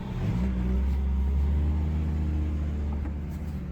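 A 3-litre Mercedes W123 engine running steadily, a loud, close, continuous low rumble with a faint rise in revs, heard alone without talk.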